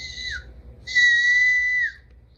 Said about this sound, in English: The whistle can really be piercing.